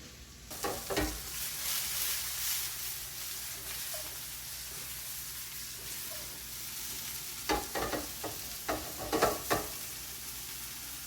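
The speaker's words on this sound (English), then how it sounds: "let the onions get a little bit translucent for a couple of minutes" Red onions fry in a pan for tomato sauce with a steady broadband sizzle, and stirring scrapes cluster near the start and again toward the end, with no one talking.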